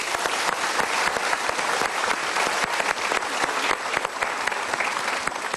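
Dense, continuous applause from a television studio audience, crisp and even, with no talking over it.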